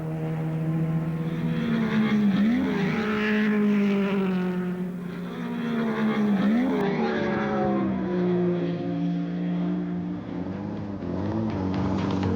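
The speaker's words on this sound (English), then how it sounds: "John Chatham's determined to put his Austin Healey through its paces" An Austin Healey classic car on a rally road heading south to the Alps, its engine roaring loud and close under hard driving, pitch rising and falling through gear changes with sustained, strained revving.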